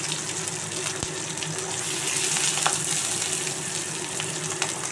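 Garlic and green chillies sizzle in a little hot oil in a wok, a steady bright hiss that swells slightly and holds on without any talking.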